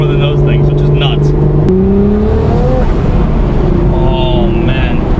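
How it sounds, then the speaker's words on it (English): A 1300 hp Nissan R35 GTR with an HKS GT1000+ turbo kit accelerating hard, loud engine tones sweeping upward through gear changes, with turbo whistle and wastegate chatter up close throughout. "the wastegates sound amazing, the turbos sound nuts, and this thing is just ridiculous."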